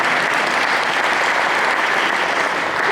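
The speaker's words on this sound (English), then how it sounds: "So let's give Farm Bureau Insurance a congratulations and a round of applause." A banquet audience at a touchdown club awards dinner breaks into steady, dense applause that fills the room loudly and continuously for the whole stretch.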